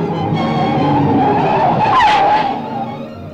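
A car in an old Tamil film scene is driven fast, its engine roaring steadily up close with a brief tire squeal in the middle, no talk over it.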